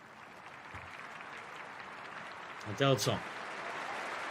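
Home supporters at an FC Tokyo versus Nagoya Grampus J.League cup semifinal cheer and clap as a steady stadium roar, swelling briefly into a louder burst near the end while a commentator talks over it.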